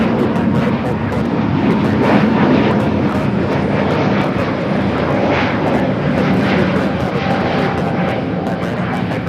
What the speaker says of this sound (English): 7849 taking off to Oaxaca on the A320neo